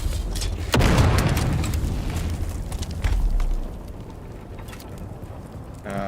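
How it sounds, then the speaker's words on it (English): A grenade goes off in the survival game Dune Awakening: a loud, deep boom with a rumbling tail, a second thump a couple of seconds later, then a fading crackle. "Tossing grenade!"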